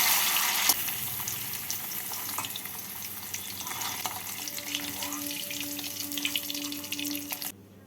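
Paneer pieces fry in oil with a dense, close, continuous hiss and crackle, strongest at the start and easing slightly, with a faint steady tone appearing toward the end before it cuts off.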